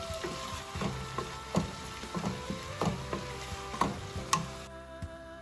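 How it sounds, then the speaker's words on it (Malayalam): Vegetables for egg fried rice being stirred as they fry in a pan, with repeated scraping and tapping strokes in an uneven rhythm over a soft sizzle, close and fairly quiet, with no talking. "അതും നല്ലപോലെ നമ്മൾ ഇളക്കണം."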